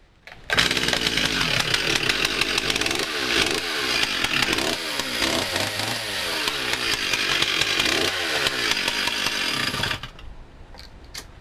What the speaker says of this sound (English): cut down the tree with a chainsaw